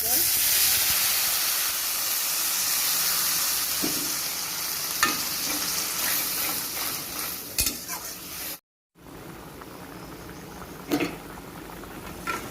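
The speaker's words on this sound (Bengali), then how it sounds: "জল ঝোলটা ফুটে উঠেছে" Chickpea curry broth in a pan after hot water has been added, a steady hiss and bubbling simmer with occasional stirring clinks and a brief dropout partway through.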